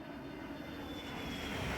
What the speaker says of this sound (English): the way it sounds, the way it fades out, I swear it's a real airplane